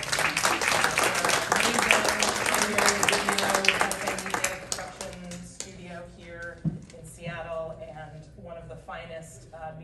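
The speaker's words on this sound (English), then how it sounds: "Let's give them a round of applause." An audience at an architecture talk applauds for about five seconds, the clapping then fading as music with a voice comes in and carries the rest.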